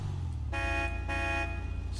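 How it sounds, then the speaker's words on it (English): The stock car horn in GTA Online honks twice in steady tonal blasts, each under a second, loud over a constant low engine rumble. "Stock horn."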